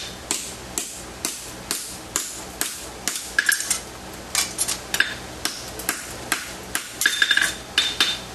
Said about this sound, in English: Now you can see I'm going to pull with my hammer a bit.